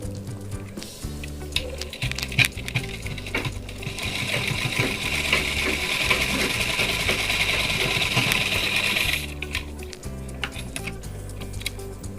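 A sewing machine stitches thread seams in a steady, fast mechanical whirr that rises in the middle, with slower clicking at the start and end.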